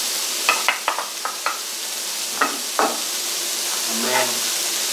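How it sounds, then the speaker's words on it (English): Peppers fry in a pan with a steady sizzle, and a utensil stirs and scrapes against the pan in several quick knocks, close and fairly loud. "And we're going to carry on frying these until they're"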